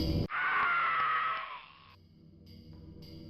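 A man lets out a loud, sustained scream lasting over a second, then breaks off into quieter ragged breathing and faint movement, heard alone without talk.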